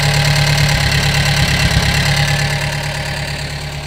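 Gehl 3510 skid steer engine running at a steady idle, a loud, close, throbbing mechanical drone with a slight knock, easing a little toward the end.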